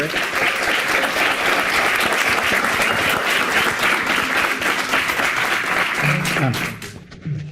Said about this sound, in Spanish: un aplauso, por favor, para los ponentes